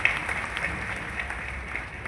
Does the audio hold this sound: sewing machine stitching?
no